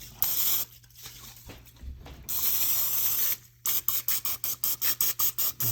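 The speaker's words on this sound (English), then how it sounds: "Let me spray that out." Cooking oil spray misted over breaded oysters and catfish in an air fryer basket: long hissing sprays, then a quick run of about ten short rhythmic bursts, close and fairly quiet, with no voices.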